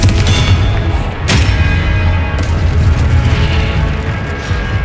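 The Confringo blasting spell from Hogwarts Legacy bursts as a loud, close explosive boom with a rumbling tail, followed by further sharp impacts and a roaring low rumble.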